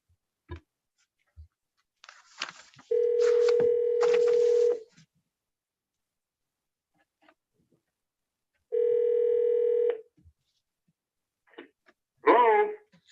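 A telephone on speakerphone rings with two long steady ring tones separated by a pause, preceded by faint dialing clicks and followed by a voice picking up, all in a quiet room.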